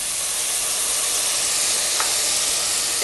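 Lime juice poured into a pan of mango mojo sauce as it sizzles, giving a steady, loud hiss and crackle with a brief splash partway through and no voices.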